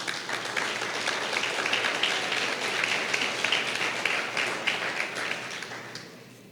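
A church congregation gives the Lord a strong, sustained round of applause during a Tuesday evening service. The dense clapping is moderately close and holds steady for several seconds, then fades out.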